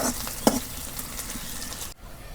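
Onions frying in hot oil for a fish curry tempering, a steady crackling sizzle with a sharp clink of stirring near the start, cutting to quieter sound at the end.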